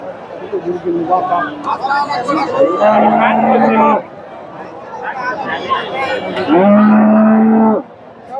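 Cows moo at the Dhap cattle market in Bogura, where a six-tooth dairy cow is on sale. Two loud, drawn-out lows rise close by over steady crowd chatter and someone talking.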